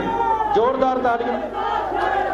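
At a youth political rally in Mandi, a large crowd cheers and shouts together in a loud, continuous roar of raised voices.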